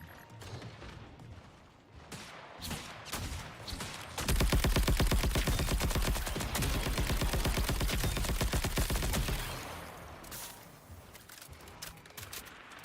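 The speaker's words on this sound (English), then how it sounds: "What are you shooting at?" Rapid sustained gunfire in the video game Marathon, a fast rattling burst of about five seconds that stands out above scattered quieter shots and clicks before and after.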